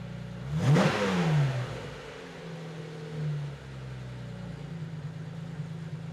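A Porsche hot rod engine gives a brief rev near the start, then drops back and settles into a steady, low idle of about 1,000 RPM that holds close and even to the end.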